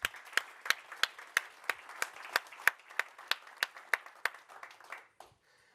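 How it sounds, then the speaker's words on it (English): A small audience at a business procurement event claps in a steady run of sharp, evenly spaced claps that stop after about five seconds. "Another round of applause for David Schultz"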